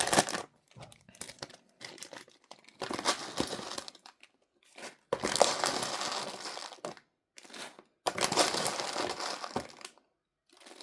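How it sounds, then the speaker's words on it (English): Rice grains pour into a plastic bag for weighing thread tension on a Singer 401 sewing machine, coming in several bursts of crinkling rustle and hissing grain flow separated by short pauses, close and fairly loud. "So we need to add 21 grams of weight here in the plastic bag. I'm going to use rice."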